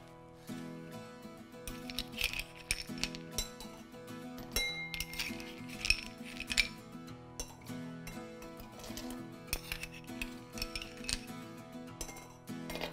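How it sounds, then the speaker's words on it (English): Ice cubes dropped into a serving glass for a blended drink, a series of bright clinks and rattles as the cubes knock against the glass and each other, close and fairly quiet. "So in this, first add some ice cubes."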